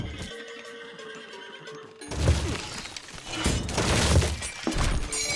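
Horses neigh and whinny amid clattering hooves and crashing, shattering game effects in an Age of Mythology match, loud and busy after a quieter opening.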